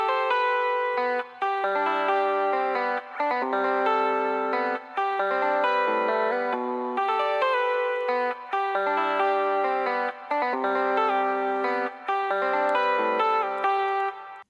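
Electric guitar played through a Pignose Quarter Gain 2 pedal, with delay and reverb, picks out a repeating melodic pattern of bright, sustained notes in steady phrases.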